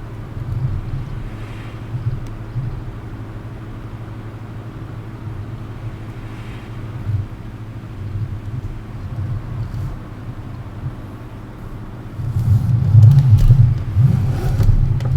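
Road traffic in Farming Simulator 17, set around Lawfolds, Aberdeenshire, gives a steady low engine drone that swells into a louder rumble near the end, like vehicles passing close by.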